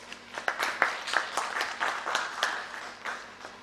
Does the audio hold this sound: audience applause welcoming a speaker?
yes